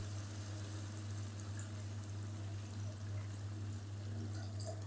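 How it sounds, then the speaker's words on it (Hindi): About a cup of water is poured into a pan of frying potatoes during cooking, making a steady hiss and bubbling wash under a constant low hum, with no voices. "इस टाइम पे आगे ना हम इसमें तकरीबन 1 कप पानी शामिल कर देंगे।"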